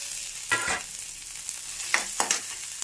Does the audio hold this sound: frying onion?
yes